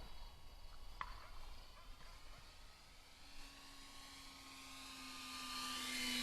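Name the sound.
E-Flite RV-7 RC airplane flying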